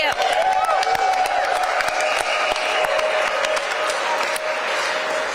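Crowd at a rally for Pennsylvania's film tax credit cheering and applauding, a steady dense wash of clapping and whoops that holds loud throughout, with a sustained tone running beneath.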